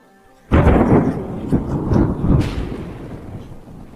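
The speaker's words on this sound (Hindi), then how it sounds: "थोड़ी देर बाद जोरों की बारिश शुरू हो जाती है" A sudden loud thunderclap breaks in and rumbles on for several seconds, with heavy rain roaring underneath as it slowly fades.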